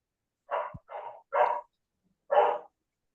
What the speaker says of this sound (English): Is that dog barking?